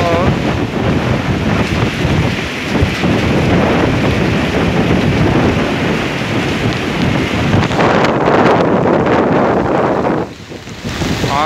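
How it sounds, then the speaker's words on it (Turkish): A coastal storm on the shore at Ahmetbeyli, Turkey: strong wind roars and buffets the microphone while raging waves crash and surge, a loud, continuous churning wash that swells near the end before dropping briefly. "Gördüğünüz gibi dalgalar kudurdu."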